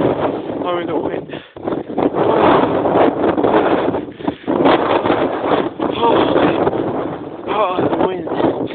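Wind driving snow during a snow storm roars loudly and steadily into the microphone, with gusting surges and brief dips, while a voice speaks over it.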